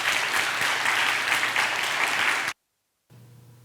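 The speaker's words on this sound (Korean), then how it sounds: "큰 박수 부탁드립니다" Church congregation applauding to welcome a guest pastor to the stage, steady dense clapping for about two and a half seconds, then it cuts to silence followed by a low room hum.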